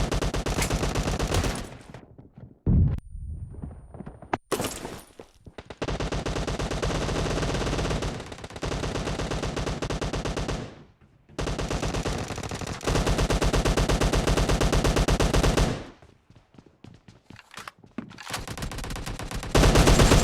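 Sustained bursts of automatic gunfire from the video game PUBG, loud and close, firing in long rapid volleys broken by short pauses, with a brief quieter gap near the start.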